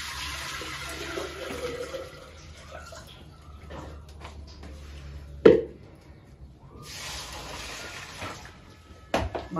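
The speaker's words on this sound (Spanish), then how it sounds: "Le vamos a echar una jarra de agua." A jug of water is poured over beans for washing, a steady splashing flow heard up close that stops with a sharp clunk, followed by quieter rustling and a second burst of pouring near the end.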